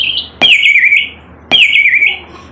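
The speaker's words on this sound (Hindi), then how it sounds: "पक्षी की आवाज़ आ रही है आपको" Two loud, sharp bird calls triggered as a sample from a Roland SPD-20 Pro drum pad, each a bright chirping squawk lasting about half a second, separated by a brief pause.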